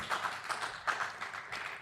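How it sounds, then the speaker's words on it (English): A small group gives a brief round of applause, light scattered claps forming a soft, fairly close patter that lasts under two seconds with no talking. "A little round of applause is good."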